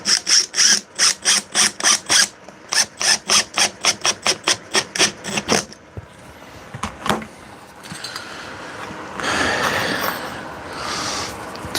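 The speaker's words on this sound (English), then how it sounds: "So I'm gonna put nice, quite long screws here in the timber." A power drill drives long screws into timber in a rapid run of about fifteen short, even bursts, followed by scattered knocks and a longer, rougher whir of the driver biting into the wood.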